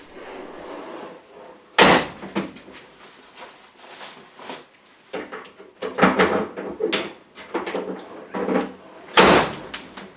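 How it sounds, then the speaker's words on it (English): The hatch of a Daihatsu Charade under restoration is dropped shut, producing several sharp, close latch thumps and clunks separated by quieter rustling and handling noises. "removed this bit of masking tape from the latch post and dropped the hatch"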